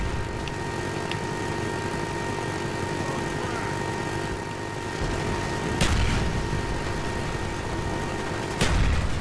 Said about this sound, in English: Another chopper gunner already.